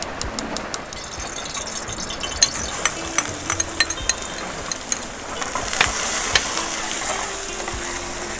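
Crab roe for a Vietnamese bún riêu crab noodle soup stir-fries in a hot pan with a steady, loud sizzle. Rapid clicking scrapes of a utensil stirring against the pan cut through it, and the frying surges louder toward the end.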